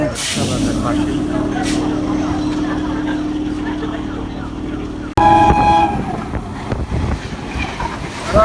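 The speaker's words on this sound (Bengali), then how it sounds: "কি দ্রুত গতিতে ট্রেন পার হয়ে যাচ্ছে" A train rumbles past close by, a steady low roar that suddenly swells louder and clatters as cars rush through, with a faint horn-like tone.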